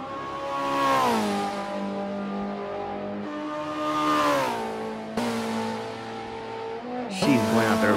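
A race car engine revs high and shifts repeatedly, pitch climbing and dropping in bursts, with the sharp synthetic tone of a driving game, in Forza Motorsport 7 at the Hockenheimring, entering the turn 6 hairpin.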